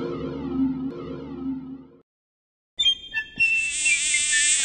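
A high, thin mosquito whine in an advert for mosquito coils, close and steady after a short silence, following a stretch of droning insect-like buzzing.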